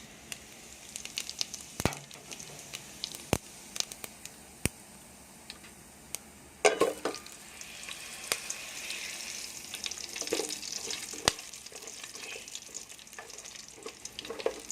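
Whole spices crackle and sizzle in hot cooking oil in a pot, a soft steady fry punctuated by sharp scattered pops and clicks, with occasional stirring noises.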